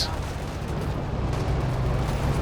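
Heavy rocket barrages from a KV-8 tank strike in a Company of Heroes 2 battle, heard as a dense rumbling wash of explosions and fire layered over continuous battle noise, fairly distant and sustained.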